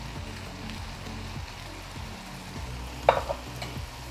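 Chicken kondattam being stirred in its sauce in a pan with fried curry leaves and chillies added, a soft steady sizzle with rhythmic scraping strokes and one sharp utensil clink, close and without talk.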